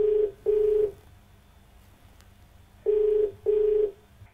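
A telephone ringback tone sounds as a call connects on a TV call-in show, two pairs of short steady beeps separated by a quiet gap.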